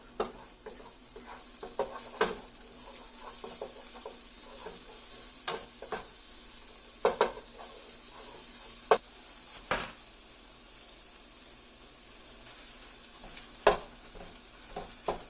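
Minced garlic is stirred in a frying pan over a soft, steady sizzle, punctuated by scattered sharp scrapes and clicks of a utensil against the pan, close and without talk.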